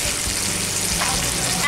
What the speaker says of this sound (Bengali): আলুগুলোকে তেলের মধ্যে বিছিয়ে দিয়েছি,